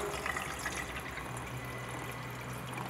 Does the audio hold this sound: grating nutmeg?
no